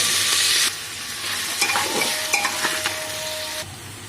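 Chopped potatoes drop into a hot pan with ginger-garlic paste and a bay leaf, setting off a loud hiss that settles into a steady sizzle, with scraping and a few utensil knocks.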